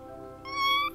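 A cat meows in the Hybrid Animals video game: a single drawn-out, rising then falling meow, fairly loud and close, with no talk over it.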